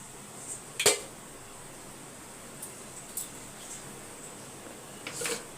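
An idli steamer pot being opened and handled, with a sharp metallic clank near the start, then a few lighter clinks and a brief rattle at the end over a quiet background.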